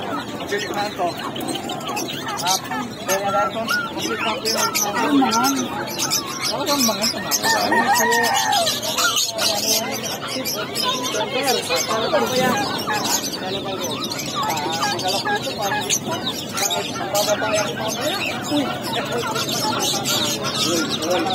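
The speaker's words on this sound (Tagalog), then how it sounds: "Ay, daming ibon din dito guys." Many chickens and roosters cluck and crow continuously amid other caged birds at a busy Filipino animal market, with crowd chatter and voices running throughout.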